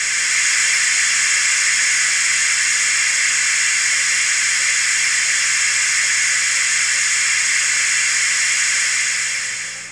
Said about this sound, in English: And blowing off the steam.